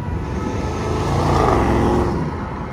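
Heavy traffic roars steadily around the Arc de Triomphe in Paris, a dense continuous wash of car and engine noise with a vehicle surging past, loud and close, with no talk.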